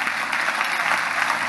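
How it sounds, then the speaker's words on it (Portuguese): A church congregation applauding, a dense steady wash of many hands clapping together in a large room, sustained and even for the whole moment. "receba os dois com uma salva de palmas"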